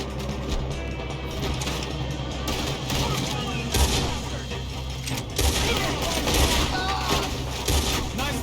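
Gunfire during a Red Dead Redemption 2 carriage robbery shootout, dense overlapping shots and blasts rolling continuously at loud, steady intensity with occasional sharper bursts, mixed with game ambience.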